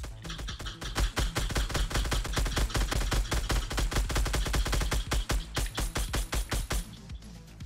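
Rapid, loud gunfire in Fortnite, a sustained fast burst of evenly spaced shots that continues almost without pause.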